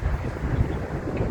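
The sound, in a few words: wind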